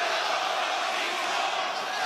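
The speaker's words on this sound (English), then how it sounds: "You can hear the 50-50 split between the raucous crowd here in Atlanta." A raucous arena crowd at an AEW wrestling match in Atlanta, a dense, continuous roar of cheering and chanting that fills the space without letting up.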